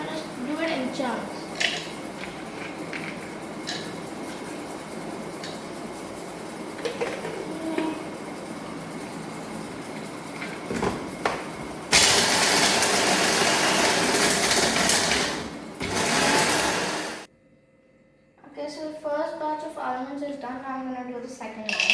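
An electric grinder whirs loudly through a batch of almonds and walnuts in chunks, a steady roaring buzz for several seconds that cuts off abruptly, preceded by kitchen clatter and followed by a person speaking.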